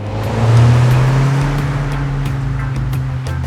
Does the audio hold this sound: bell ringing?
no